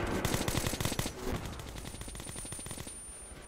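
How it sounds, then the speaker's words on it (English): Rapid bursts of rail gun fire in the Metro 2033 video game, a loud stuttering volley in the first second or so that trails into a dense, sustained roar of shots and rumble. "It's a rail gun. It's technically lethal."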